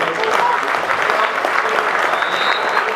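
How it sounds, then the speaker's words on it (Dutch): A football crowd at a Rijnsburgse Boys versus Spakenburg match applauds steadily as a player is substituted, a moderately close wash of clapping across the stands. "Onder een applaus voor Lapenveld."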